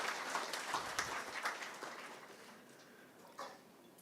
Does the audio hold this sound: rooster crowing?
no